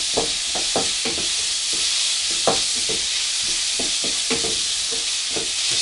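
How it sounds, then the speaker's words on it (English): Pork stir fry with noodles tossed over high heat, a steady bright sizzle running throughout with quick repeated spatula knocks and scrapes, close and loud. "Just stirring that nice and quickly, good high heat on there."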